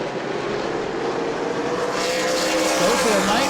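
Super late model race cars roar around the New Smyrna track during a Sunbelt Series 100-lap race, a loud, steady engine drone rising in pitch as cars pass, with an announcer talking over it.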